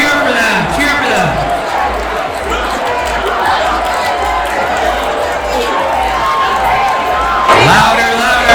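An event audience cheers and whoops continuously, a loud close crowd roar with chatter mixed in, and a voice calling over it.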